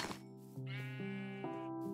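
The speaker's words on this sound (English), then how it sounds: "I just heard a cow." A Minecraft cow lets out a single drawn-out, tonal moo in the video game, its pitch stepping down and back up, heard clearly and alone with no talking.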